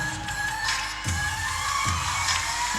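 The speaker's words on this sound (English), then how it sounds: "Her teammates cheering her on" Ohio State gymnastics teammates cheer and shout for a Buckeye gymnast during her floor routine at a meet at Kentucky, a dense, steady crowd roar that holds throughout, with music faintly underneath.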